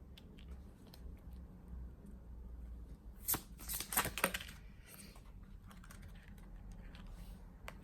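Tarot cards being shuffled and drawn for a love reading, a soft papery riffle rising into a brief cluster of crisp flicks mid-clip, close and quiet over low room hum.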